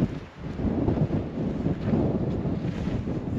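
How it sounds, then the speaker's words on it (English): Strong wind roars steadily and loudly against the microphone, a continuous rumbling buffet with no voices, in a cold Mojave Desert snowstorm. "It's extremely windy today."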